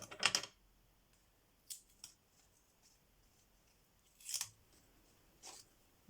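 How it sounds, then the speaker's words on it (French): Scissors cutting paper while making a vintage craft box, a few quiet, separate snips spread across the stretch with near silence in between. "j'ai des ciseaux qui ne coupent pas"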